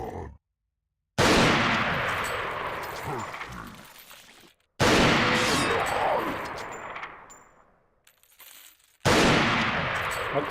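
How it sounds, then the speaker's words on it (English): Loud rifle shots boom through underground tunnels in Resident Evil 4, three heavy blasts spaced a few seconds apart, each trailing off into a long echoing decay. "can you imagine firing this loud-ass rifle in these tunnels?"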